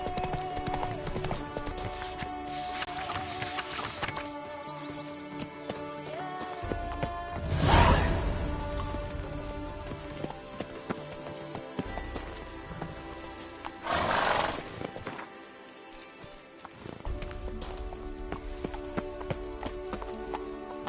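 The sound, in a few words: horse Roach galloping, clip-clop, in Witcher 3 video game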